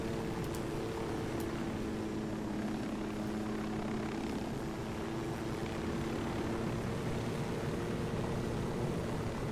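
A helicopter in the video game Ghost Recon Wildlands drones steadily throughout, its loud, constant rotor and engine hum holding an even level with no breaks and no talking.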